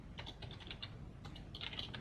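Quiet, steady keystrokes on a computer keyboard as code is typed, a continuous run of light clicks close to the mic with a short pause partway through.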